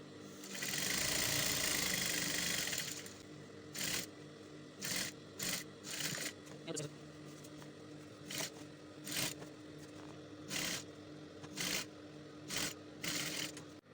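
A sewing machine hems the sleeve of an ankara umbrella flare dress, first in one long steady whirring run, then in a series of short, rhythmic bursts of stitching separated by pauses, close and fairly quiet.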